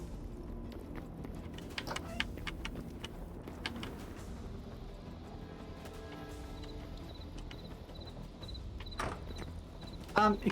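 Horse hooves clip-clop in the video game Hytale, a light, irregular clopping that runs on and off beneath a busy, cluttered game soundscape, with scattered clicks and a louder thump near the end.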